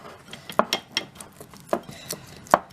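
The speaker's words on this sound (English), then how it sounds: "So I'm just using a spatula to just kind of mix it up." A spatula mixing prime rib seasoning in a bowl, sharp scattered taps and scrapes against the bowl, close and clear with no talking.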